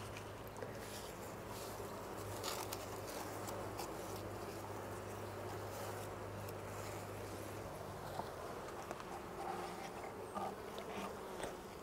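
Honey bees buzz at an opened beehive during a varroa mite treatment, making a dense, continuous, close swarm hum that stays steady with no talking.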